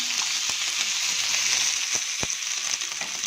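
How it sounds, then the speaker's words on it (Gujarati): Two tomatoes fry in a pan with a steady close sizzle and hiss, broken by a few faint taps, and no one speaks. "2 ટામેટાં લીધા છે, એને આમાં એડ કરી દઈશું. અને સારી રીતે ફ્રાય થવા દઈશું."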